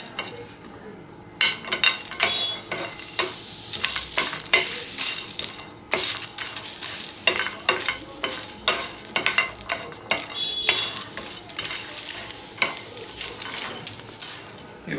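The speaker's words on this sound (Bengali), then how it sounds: "এগুলো আগে দিয়ে ভেজে নিই" Whole spices frying in a hot pan for a home-style biryani, stirred with a utensil that scrapes and clinks against the metal in irregular bursts over a soft, steady sizzle.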